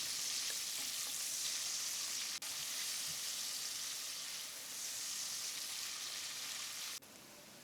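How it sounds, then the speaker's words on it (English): Sliced onions fry in oil in a pot for an Indian-style pigeon curry, giving a steady, loud, close sizzle that runs unbroken apart from two brief clicks. "Fry the onions for 2 to 3 minutes till they brown up"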